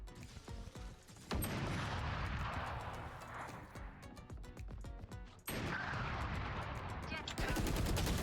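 Rapid bursts of gunfire from the video game Valorant crackle in dense, continuous volleys, loud and close, with a player's voice faintly underneath.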